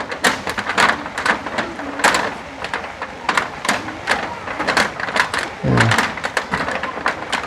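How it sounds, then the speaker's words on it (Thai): Heavy rain pouring down with dense hiss and irregular loud patters and splashes, a voice speaking briefly underneath. "เบิ่งเด้อฝนตกมื่นเด้อ"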